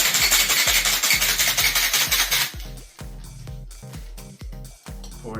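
A cocktail shaker holding tequila, lime juice and agave rattles in fast, loud, rhythmic bursts for about two seconds, over a thumping music beat that carries on after the shaking stops.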